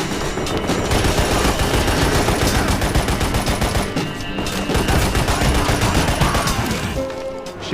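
Rapid, continuous automatic gunfire from a video game shooting gallery, loud and dense with only a brief lull near the middle, no talking over it.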